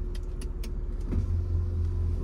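A 1989 Mercedes-Benz 300SE in Impala Brown, 104k miles, rumbles at close range as it sets off on a test drive, the engine hum growing steady and heavier after a brief clunk.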